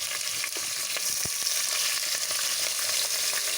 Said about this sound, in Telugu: Onions fry అవనివ్వాలండి. ఒక 5 మినిట్స్ బాగా ఫ్రై అవనివ్వాలి.